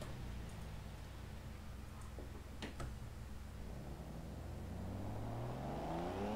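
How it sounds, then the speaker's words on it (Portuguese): A car engine in the video game Forza Horizon 4 rumbles steadily, then revs up with its pitch climbing toward the end, loud and close, with no voices. "O som desse carro é muito da hora"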